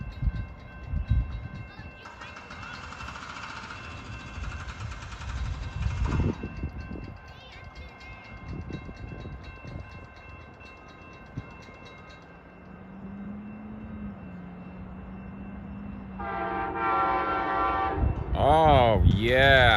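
Northbound Amtrak Auto Train in Folkston with new Amtrak engines approaching a crossing, its loud horn sounding in long blasts over rumbling rail noise and crossing bells, growing louder as it nears, with brief talk partway through.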